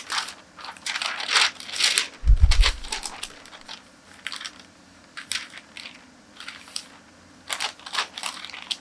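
Paper pattern folded along a dart line, giving a series of crisp crinkles and rustles with one soft thump, close and fairly quiet, no voices.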